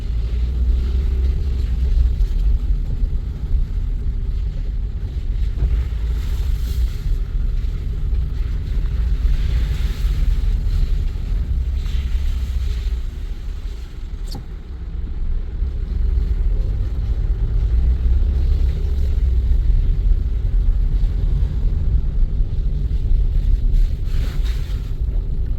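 Steady low rumble of a Toyota car with a semi-automatic gearbox driving on a road, a constant heavy drone of engine and road noise with wind buffeting, dipping briefly midway.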